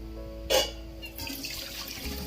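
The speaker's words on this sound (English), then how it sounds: "Drain away the water." A brief splash followed by cooked rice water pouring and trickling away through a colander, close by and moderately loud.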